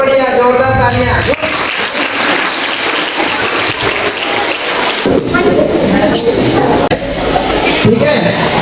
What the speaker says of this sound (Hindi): बहुत बढ़िया, जोरदार तालियां।